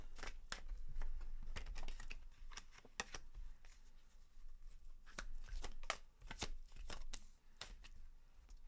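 Tarot cards are shuffled in a series of crisp, riffling bursts of card noise, quiet and close, repeating with short pauses and no talk.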